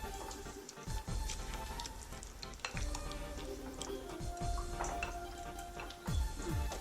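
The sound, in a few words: stirring a sauce mixture in a pan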